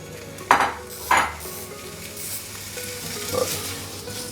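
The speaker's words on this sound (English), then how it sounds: "While that's sizzling in the background" Steady sizzling and frying of beef cheek in a pan, with a couple of sharp clinks of a utensil near the start and a faint clatter later.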